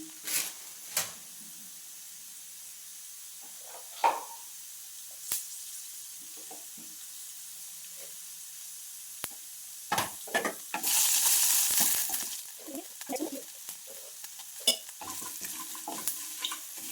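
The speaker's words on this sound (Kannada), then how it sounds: "ಜೀರಿಗೆ ಉದ್ದಿನಬೇಳೆ ಎಣ್ಣೆಲಿ ಫ್ರೈ ಆಗಬೇಕು" Cumin seeds and urad dal frying in hot oil for a pumpkin sambar, with soft crackling, scattered pops and stirring scrapes at close range, broken by a louder burst of sizzle midway, no talking.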